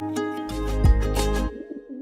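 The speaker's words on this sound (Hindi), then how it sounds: "ये वही कबूतर है जिसको गोली लगी थी।" A pigeon coos several times in a row, close and clear, over a steady sustained musical tone in a TV drama scene.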